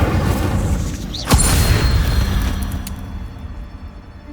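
An Incendio fire spell cast in Hogwarts Legacy, a sudden booming burst with a whooshing flare that rumbles on and slowly fades away over the next few seconds.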